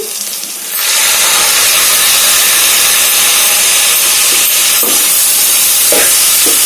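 Small pieces of two chopped tomatoes fry in a hot pan, a loud, steady hiss and sizzle that bursts in after a quiet second and carries on, with a few faint stirring scrapes.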